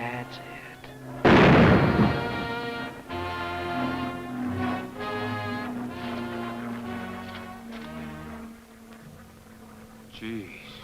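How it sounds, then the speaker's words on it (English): A rifle shot in an old 16mm film soundtrack: one loud, sharp blast near the start that decays into a ringing tail, followed by sustained film music and background tones. "Squeeze the trigger like they told you."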